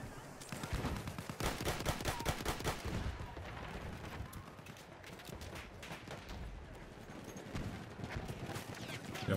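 Rapid gunfire in the World War I shooter game Battlefield 1, with dense bursts of shots up close, heaviest in the first few seconds and then continuing as steady combat noise.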